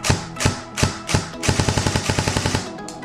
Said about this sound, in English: I just program for binary trigger, so that's when you pull the trigger, it shoots, and when you release the trigger, it shoots.